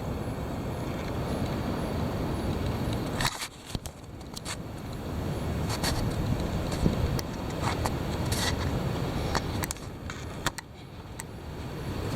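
Heavy wind blowing steadily and roaring without a break, buffeting close to the microphone, with a few brief gusts and clatters.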